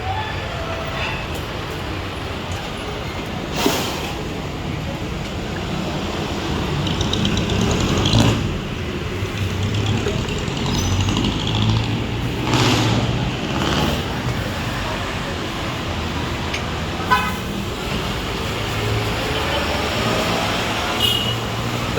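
Steady road traffic rumbling in the background of an outdoor street-side cooking spot in the Philippines, with passing vehicles swelling and fading several times and occasional voices over the continuous drone.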